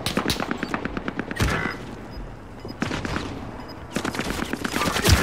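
Rapid automatic gunfire from a Call of Duty: Modern Warfare match, with dense bursts of shots that pause briefly before resuming, loud and close throughout.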